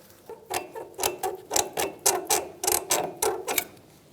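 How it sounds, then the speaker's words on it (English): A hook tool prying a brake line retaining clip off its bracket on a 2007-2015 Mazda CX-9 during front brake hose work: a quick series of about a dozen close, sharp metallic clicks and scrapes in an uneven rhythm, with no talking. "We're going to use a hook tool. Just get into that little opening on the clip and just try and pull that clip outwards or away."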